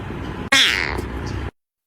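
A cat meows once, close and loud: a single drawn-out call that rises sharply and then tails off, with low background hum before and after.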